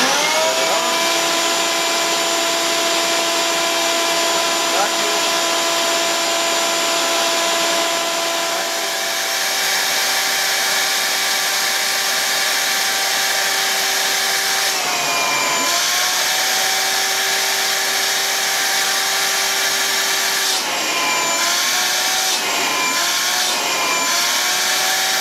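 A shop vac fitted with an upgraded dust collector runs continuously at a loud, steady whine, with brief shifts in pitch as the airflow changes.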